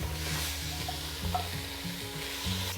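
Onions and peppers are stir-fried with Thai panang curry paste, giving a steady soft sizzle and a few brief scraping stirs. A low rhythmic hum sits underneath, and no one speaks.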